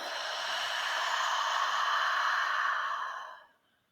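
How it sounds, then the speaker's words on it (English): A long, deep exhale after a breath in during a guided meditation, steady and breathy for about three seconds before trailing off into silence, close and alone. "And exhale."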